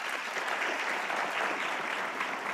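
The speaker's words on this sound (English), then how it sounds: "Please, another round of applause." Dense, loud audience applause at an African technology summit, a continuous roar of many hands clapping for the speakers from start to finish.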